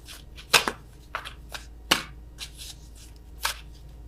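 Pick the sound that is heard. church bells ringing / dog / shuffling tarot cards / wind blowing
shuffling tarot cards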